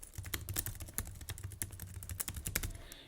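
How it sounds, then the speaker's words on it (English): Keys on a computer keyboard clatter in quick, irregular taps, a steady run of soft close clicks with no talking. "I'm typing in the website."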